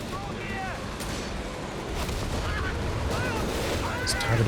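Nebelwerfer rocket artillery fires in Company of Heroes 3, a continuous roar of launches and impacts with whistling rockets over dense battle noise, steady and fairly loud throughout.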